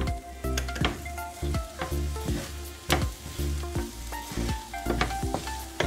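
A chicken mixture seasoned with salt and pepper powder is stirred in a hot pan, sizzling under rapid, rhythmic scraping and knocking strokes of a spoon against the metal, close and clear.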